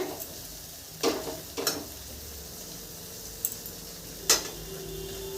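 Tomatoes frying in oil are stirred with a spatula, a soft steady sizzle broken by a few sharp scrapes and clinks of the utensil against the pan, with no talk.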